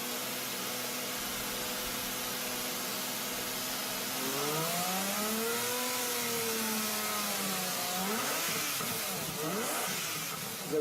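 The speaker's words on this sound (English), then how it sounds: "the only music you're gonna want to hear is the song coming from that engine" A Lamborghini 12-cylinder engine idles with a steady hum, then revs up sharply, dips and revs again in swooping waves of rising and falling pitch, loud and close with no talk.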